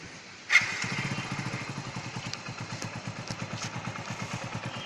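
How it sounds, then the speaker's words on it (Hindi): A Hero 100cc motorcycle engine, carburetor being tuned, fires up with a sudden burst and settles into a steady, rapid putter at idle, close and fairly loud throughout. "तो हम अपनी बाइक स्टार्ट करते हैं"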